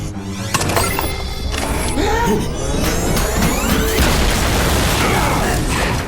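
A spaceship blows apart in a Transformers Animated cartoon, a loud, dense crash and boom of shattering debris that roars steadily for several seconds with no break.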